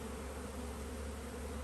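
A dense swarm of bees hums steadily around their new hive as they return, a loud, close, continuous buzz with no pauses and no voices.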